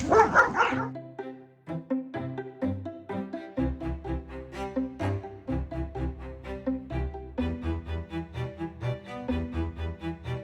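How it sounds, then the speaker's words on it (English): A dog on a garden plot out in the sun gives a run of repeated barks and yips, fairly close and continuous, with no talk over them. "Here comes the dog."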